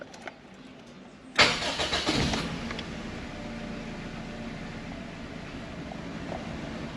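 A Toyota Tercel with a cylinder 3 misfire cranks and fires with a sudden loud burst, then settles into a steady, continuous running drone close by.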